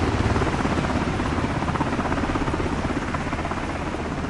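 Black Hawk helicopter rotor in a flight simulator, a steady droning whir with dense low thumping blade pulse and broad hiss, constant and fairly loud throughout with no talking.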